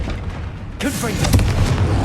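A Confringo blasting spell explodes in the Hogwarts Legacy game: after a low rumbling lead-in, a sudden loud burst hits partway through and trails off into a sustained roaring, crackling blast close by.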